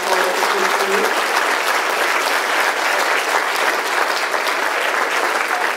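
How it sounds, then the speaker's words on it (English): A church congregation at a Christmas program gives sustained applause, a thick, even roar of clapping that carries steadily throughout, with a faint voice at the start. "He would just offer a round of applause to Christine."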